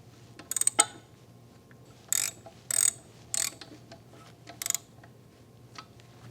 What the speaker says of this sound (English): start those end cap bolts by hand, about 10 turns. Snug those down.